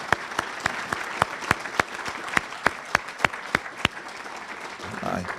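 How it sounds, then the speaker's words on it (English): Slow, evenly spaced claps ring out about a dozen times at a community heroes celebration in East Idaho, sharp and distinct rather than a full crowd roar, ending with a brief murmur. "I'd like to give her a round of applause for what she's done."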